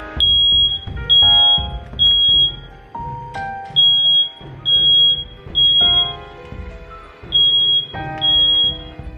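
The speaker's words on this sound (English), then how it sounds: "I frequently set off the smoke detector when cooking." A smoke alarm set off by cooking beeps repeatedly in a steady rhythm of loud, shrill tones, with music-like sounds underneath.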